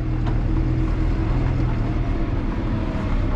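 New Holland T5.140 tractor engine settling back to a steady idle after a forward-reverse shuttle, a continuous close low rumble at even loudness, no voices.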